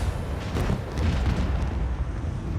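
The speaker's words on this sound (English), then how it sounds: "Macro cannons, open fire!" Macro cannons of a starship firing in the Warhammer 40,000: Rogue Trader video game, a heavy, continuous booming rumble with layered blasts rolling together, loud and dense throughout.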